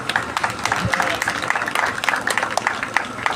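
An audience claps at a grammar school's 60th anniversary public lecture, with a scattered patter of applause running under a voice speaking over a hall microphone.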